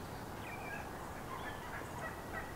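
Wild turkey gobblers call on Nebraska public land in spring, faint gobbles carrying from a distance over a steady hiss of wind or ambient noise.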